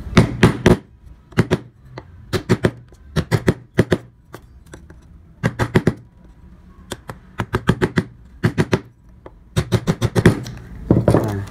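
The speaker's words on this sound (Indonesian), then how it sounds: "Gunakan pahat kol yang kecil terlebih dahulu dari sini." Small gouge chisel tapped with a mallet while carving a concave wood relief, heard as close, sharp knocks in quick bursts of two to five, separated by short pauses, with no talking.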